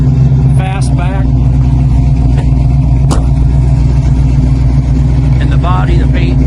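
A 1971 Ford Mustang Fastback with a 347 stroker engine idles with a loud, steady low rumble, close up, while someone talks over it.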